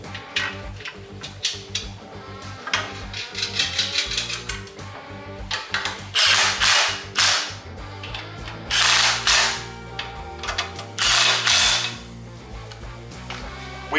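A ratchet tightening a 3/8 nut with a lock washer on an engine accessory plate during a John Deere 200 Series re-power, quick bursts of clicking separated by short pauses, close and fairly loud.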